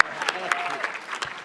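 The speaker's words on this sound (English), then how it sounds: "how about a round of applause for Rob?" Audience applause at a national soccer hall of fame induction ceremony, a dense burst of clapping from a large crowd, steady and moderately loud for a short moment.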